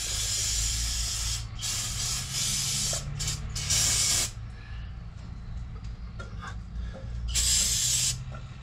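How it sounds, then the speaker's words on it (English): Loud hissing aerosol cleaner sprayed onto a dirty carburetor in several bursts, two long and a few short, over a steady low engine-like hum. "I'm just spraying the carburetor off, cleaning a lot of the dirt"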